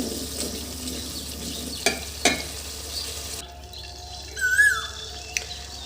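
Onions being cooked down in a pan, a low frying hiss broken by a couple of sharp stirring scrapes, then a quieter stretch with faint background sounds.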